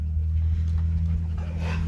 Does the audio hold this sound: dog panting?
yes